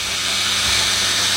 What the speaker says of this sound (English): So I'm going to start the pump up